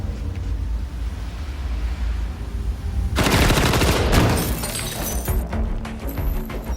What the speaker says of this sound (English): The MP5K gets plenty of screen time, wielded by both Wahlberg and Mila Kunis, making it a standout element in a visually awesome and dark action thriller